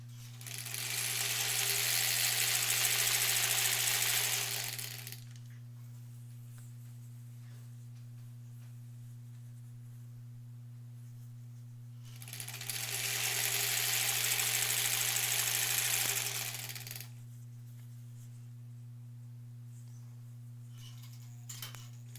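Home sewing machine stitching quilt strips in two long runs of about five seconds each, steady and close, with a constant low hum between the bursts.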